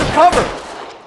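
Gunfire in the video game L.A. Noire Remastered: a single loud, close shot burst that quickly decays into a short echoing tail, with a shouted voice mixed in.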